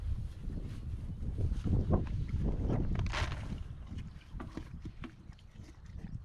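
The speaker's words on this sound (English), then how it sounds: "the tape is flying in the wind" Outdoor wind gusting across the microphone with tape flapping in it during bodywork on a horse, a rough, rumbling blow with irregular rustling flutters, steady and fairly close throughout.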